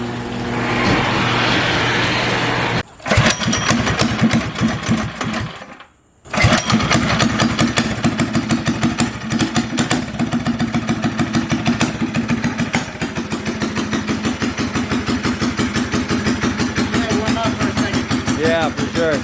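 A small mini bike engine built from a Doodle Bug kit cranks, sputters briefly, cuts out, then catches and settles into a loud, rapid, buzzing idle that runs on steadily.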